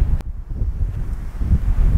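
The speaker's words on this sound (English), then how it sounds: "it's pretty windy up here" Strong wind buffets the microphone on a hilltop near Penticton, British Columbia, a loud low rumbling roar that gusts unevenly throughout.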